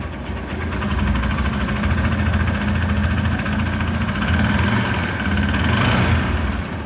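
Close and continuous, a car engine idles at a Honda dealership, a low steady rumble that stays level with only slight swells and no talking.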